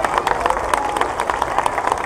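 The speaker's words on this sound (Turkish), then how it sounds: "Sizlerle de güçlü bir alkış istiyorum." A crowd claps for schoolchildren at a school's 19 May celebration in Izmir Bayraklı, a dense, steady patter of applause filling the space without pause.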